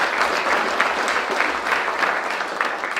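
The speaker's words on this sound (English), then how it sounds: "So a big round of applause for our previous inductees." An audience at a Hall of Fame induction ceremony applauds previous inductees, a loud, continuous round of clapping with a dense, even texture from start to finish.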